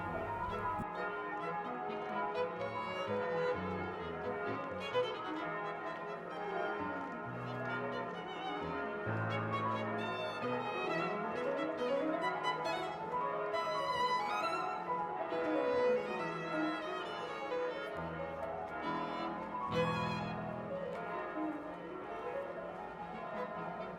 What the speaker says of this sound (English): especially when the bells ring